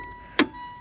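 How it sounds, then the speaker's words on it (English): The hood release on a 2016 Mitsubishi Outlander Sport pops once, a single sharp, close clunk in an otherwise quiet car interior with a faint steady tone. "And that opened the hood."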